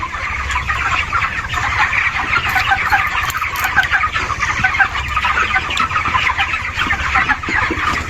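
A flock of 27-day-old chickens fills a shed with constant dense clucking and chirping at steady loudness. No one speaks.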